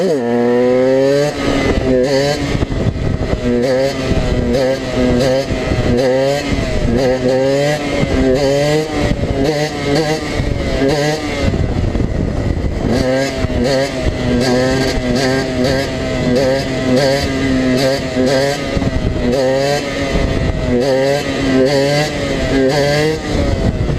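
A supermoto motorcycle engine pulls in fifth gear on a first ride, a loud, continuous buzzing drone heard close up, with the pitch rising and dropping repeatedly as the throttle opens and closes.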